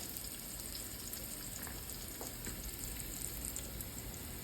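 Dried basil and other dry ingredients fry in oil in a pan, giving a soft, continuous sizzle and crackle that stays steady and fairly faint throughout, with no talking.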